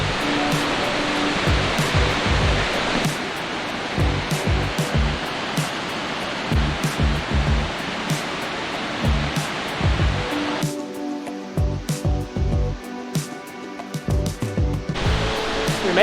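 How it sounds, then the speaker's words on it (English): New Zealand's tallest North Island waterfall roars as a steady, dense broadband rush heard from a distant lookout, constant and fairly loud with faint clicks and scuffs nearby. "It's a great waterfall."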